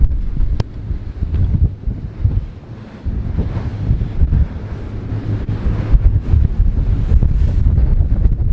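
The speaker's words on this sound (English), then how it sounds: "It's very windy up here." Strong wind buffets the microphone in loud, continuous gusts, with rushing water and waves beneath, up on a Trader 535 Sunliner motor yacht under way.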